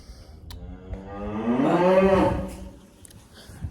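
A single long, low moo from a heifer among a herd of cattle swells and fades in the middle, with quieter farmyard background around it; no talking.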